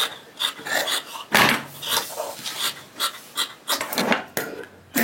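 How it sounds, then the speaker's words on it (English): Scissors trimming the seam allowance of sewn fabric to about a quarter inch, a close run of repeated crisp snipping and rasping cuts in an uneven rhythm, with no talk. "I'm going to trim to about 1/4 inch all the way around."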